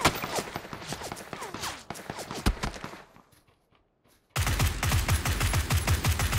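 Rapid bursts of gunfire in PUBG, a custom match with unscoped SMGs, crackling close and loud in dense volleys, then a brief near-silent gap before the shooting resumes at full intensity.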